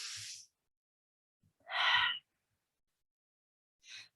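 A yoga instructor's breathing during a flow class: three separate breaths, a short one, a longer, louder deep inhale in the middle and a brief one at the end, close and breathy against silence.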